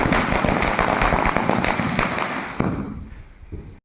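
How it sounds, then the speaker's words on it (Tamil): Diwali firecrackers crackle and burst in a dense, loud barrage of rapid pops nearby, thinning out toward the end. "பட்டாசு கொளுத்துறாங்க, வெளுத்திட்டாங்க."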